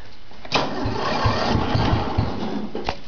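Agway 2125 lawn mower engine being cranked on choke, a steady loud mechanical drone with faint rhythmic chugging and a couple of sharp clunks, no clear catch yet.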